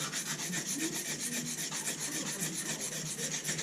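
A small inch-long utility knife blade is stroked steadily across a sharpening stone to clean up the burr, giving a continuous close, gritty rasping in quick repeated passes with no voices.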